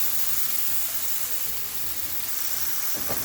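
Red wine mushroom sauce sizzling in a pan as it is stirred, a steady bright frying hiss throughout with faint scraping stir sounds underneath and a brief clatter near the end.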